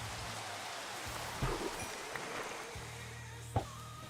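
Steady rain pattering on water in a Minecraft-style block game, a continuous soft hiss with a few brief louder drips and splashes, with no talking.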